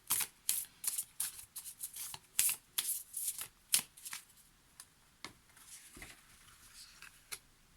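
Oracle cards are shuffled by hand, a run of soft crisp riffles and slaps in irregular bursts, close and quiet, thinning out toward the end.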